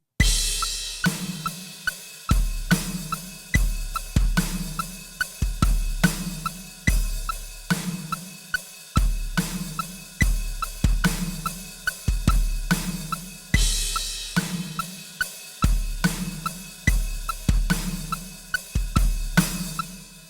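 Drum kit playing an eighth-note groove for a song, with a two-bar kick pattern and big washy hi-hats; repeated deep kick thumps and crisp cymbal wash in a steady, even rhythm, played alone with no voice.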